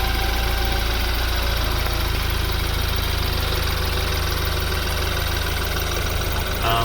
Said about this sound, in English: the 4-cylinder turbo model, sounds like a diesel. I mean, this car does not sound good at idle whatsoever